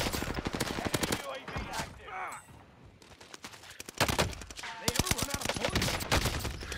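Automatic gunfire in a multiplayer shooter video game: loud, rapid bursts of shots in several volleys with a short lull midway, then renewed fire. Players talk at times over and between the bursts.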